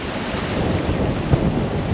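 Ocean surf where a river flows into the sea along South Africa's Garden Route, heard as a steady broad wash mixed with wind buffeting the microphone, no voices.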